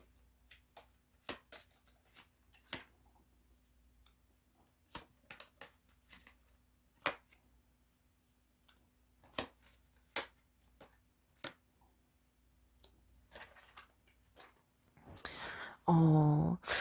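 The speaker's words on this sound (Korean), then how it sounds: "카드 먼저 놓을게요." Tarot cards are shuffled and dealt onto a table in crisp, close, intermittent flicks and snaps spread across a quiet stretch, ending in a brief louder rustle.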